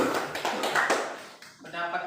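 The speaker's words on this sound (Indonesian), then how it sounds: "tepuk tangan untuk kelompok 3 sudah presentasi" Classroom applause for presentation group 3 in a civics lesson, a burst of scattered hand claps from students lasting about two seconds, fairly close, with a brief dip near the end.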